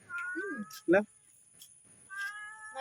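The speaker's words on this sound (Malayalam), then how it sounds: "പൂച്ചകൾ എന്തൊക്കെയാ പറയണ്ടേ" A cat meows several times nearby, short rising cries with quiet gaps between them, one sharper yowl in the middle.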